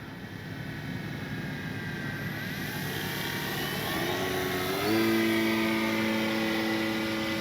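A CNHL Bison XT RC bush plane flies on its maiden flight, an electric motor whine that rises and shifts in pitch as the throttle changes, steady and moderately close against outdoor background noise.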